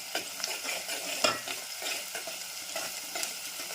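Ginger garlic paste sizzles in a hot pan for a tomato and potato curry, a steady bright crackle broken by the scrape of a spoon stirring, close and alone.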